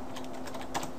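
Quick, light keystrokes on a computer keyboard, typed at a steady pace in a quiet room, a short burst of soft clicks with no talking.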